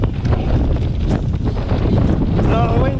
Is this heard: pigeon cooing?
no